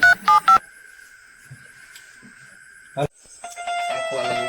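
A quick burst of three telephone keypad tones, then a steady tone rings on for a few seconds before fainter tones and background noise take over.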